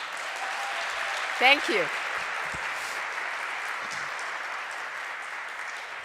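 Steady crowd applause for the lunch server at a December 6 remembrance event on violence against women, moderately distant and even, with a brief spoken thanks rising over it early on.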